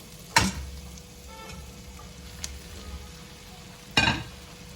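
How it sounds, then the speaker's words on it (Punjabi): Idli pieces are stir-fried with roasted spices and vegetables for masala idli: a steady sizzle in the pan, broken by two sharp spatula scrapes near the start and end. "ਇਡਲੀ ਨੂੰ ਆਪਾਂ ਚੰਗੀ ਤਰ੍ਹਾਂ ਸਬਜ਼ੀਆਂ ਦੇ ਨਾਲ ਮਿਕਸ ਕਰ ਲਵਾਂਗੇ"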